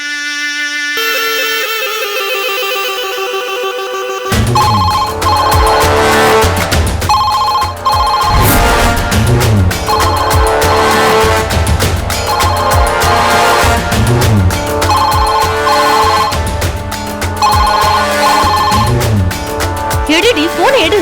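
A phone ringtone in a Tamil TV serial rings repeatedly until the call cuts off, a melodic tone pattern that gives way to loud dramatic background music with voices.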